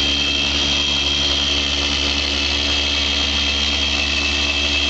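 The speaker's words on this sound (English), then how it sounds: "This is not a powerful polisher. It is an effective and safe polisher." A car polisher runs continuously on automotive paint, a steady close whirring hum with a constant high whine and no pauses.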